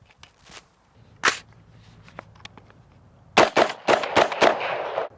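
A Ruger SR-556 rifle fires on gas regulator setting 2. A few sharp reports come first, then a rapid string of close, loud shots, with no talk.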